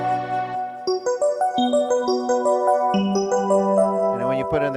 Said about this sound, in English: It was called Piano Electric